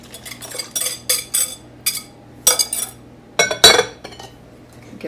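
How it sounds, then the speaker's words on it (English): A spoon stirs a wet oatmeal bake mixture in a bowl, giving a series of short, close scraping clinks in uneven bursts against a quiet background. "Give that a quick little stir."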